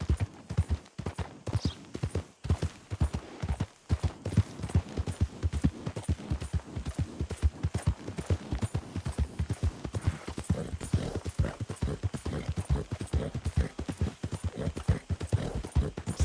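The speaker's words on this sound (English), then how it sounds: "It's a lot to nod my head along with the rhythm of the hooves." Horse hooves gallop in Red Dead Redemption 2, a fast, steady clip-clop rhythm of hoofbeats that runs unbroken and close throughout, with occasional faint talk.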